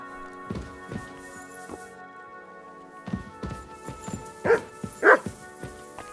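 A dog in the medieval role-playing game Kingdom Come Deliverance II gives a series of short, close barks and yips, scattered irregularly and growing louder toward the end.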